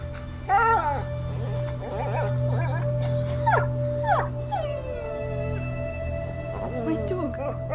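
A dog whimpers and yelps in repeated high, wavering cries in A Plague Tale: Innocence, with a low steady drone underneath and a voice speaking.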